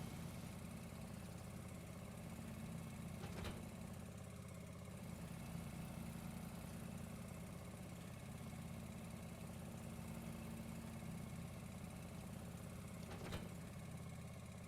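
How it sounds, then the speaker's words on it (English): A John Deere ride-on lawnmower engine idles in a video game, a steady low mechanical drone holding constant throughout, with two brief clicks breaking the hum. "Little John Deere riding tractor."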